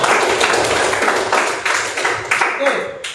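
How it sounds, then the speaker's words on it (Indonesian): Classroom of biology students clapping hands together in brief applause, a burst of overlapping claps filling the room at moderate loudness with some chatter underneath. "kasih tepuk tangan dulu"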